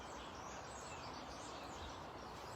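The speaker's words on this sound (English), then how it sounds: "Noisy birds." Birds chirp steadily outdoors in a dense, continuous chorus of small calls, fairly loud and filling the background with no voice over it.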